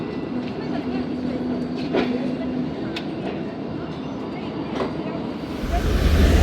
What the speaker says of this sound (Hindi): प्लेटफार्म नंबर 2 पर आई है ट्रेन